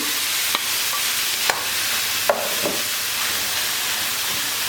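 Meat sizzling steadily in a hot pan for Turkish sac kavurma, a constant crackling hiss with a few sharp clinks of a utensil against the pan.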